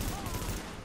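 Rapid bursts of M4 rifle fire in the video game The Division, set in a field hospital mission, sound as a dense, continuous volley that stays loud through the short moment with no pauses.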